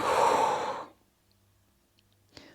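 A single audible breath during a yoga core exercise, a soft, airy whoosh lasting under a second, followed by near silence and a faint rustle of movement at the end.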